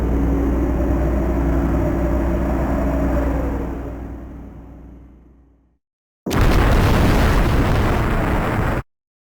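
Video game explosion from Overblood 2 on PS1: a loud sustained roaring blast that fades to silence, then a second harsh burst of noise that cuts off abruptly.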